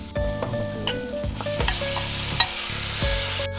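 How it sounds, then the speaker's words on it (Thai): Pork ribs stir-fried with seasonings in a hot pan for a Coke-braised rib stew, giving a steady close sizzle broken by repeated scraping stirs and clanks of the utensil against the pan, with no talking. "ผัดให้หอมนะครับ จนหอมแล้วนะครับ"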